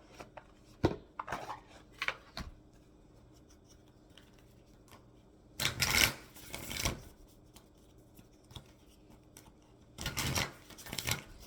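Tarot cards are shuffled in separate quiet bursts of riffling and rubbing, with a louder flurry mid-way and another near the end, close and without talk.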